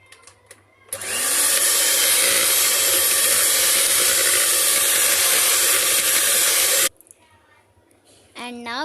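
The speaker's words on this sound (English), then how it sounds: "put the butter into it and start beating with the beater" An electric beater whirs through butter in a big bowl, switching on after a second into a loud, steady, buzzy drone with a scraping edge that holds for about six seconds before cutting off, followed by quiet and a voice speaking.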